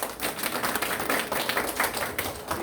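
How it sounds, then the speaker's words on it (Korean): An audience at a graduation festival lecture at an arts school in Gangjin, Korea, claps in welcome for a guest speaker. The clapping is a moderately quiet, uneven patter of many hands and carries on without voices. "자, 주희춘 대표님 여러분 박수로 환영해 주십시오."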